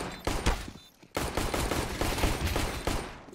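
Bursts of automatic gunfire in a CS:GO match on the Mirage map, laying down covering fire: a short volley, a brief gap, then a long sustained stream of rapid close shots, loud and without talk.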